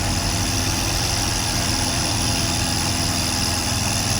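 Freshly overhauled Keeway Icon 110cc scooter engine idling while warming up, a steady close mechanical hum with fine vibration and no talk.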